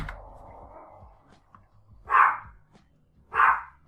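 A dog gives two distinct barks about a second apart, fairly close and clear, after a stretch of quiet low background noise in a room.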